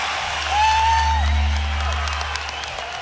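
Esports arena crowd at a CS:GO Dreamhack Masters event in Malmö cheers and applauds for Mousesports, a broad loud roar that swells then settles, with an announcer's voice over it.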